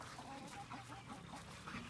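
Soft, repeated clucking from a few chickens nearby being flushed into the open near young American Bulldog pups, steady and low-key against outdoor background noise.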